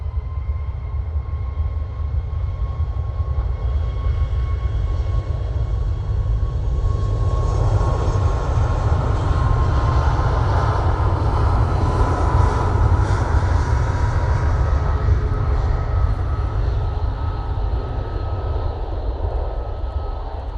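A Ryanair Boeing 737 MAX jet takes off bound for Cork, a continuous loud engine roar with a thin steady whine that swells through the middle and then eases, heard alone without voices.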